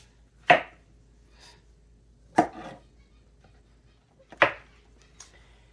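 Knife chopping mushrooms into chunky pieces on a board, three separate sharp cuts spaced well apart, close and moderately loud with quiet between them.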